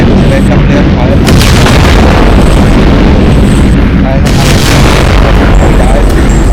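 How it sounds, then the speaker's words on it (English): Gameplay from a game with a basic player character firing: repeated loud, booming shot effects in quick succession, blasting continuously under a person speaking. "there are sound effects when the player fires"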